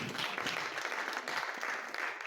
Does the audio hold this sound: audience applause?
yes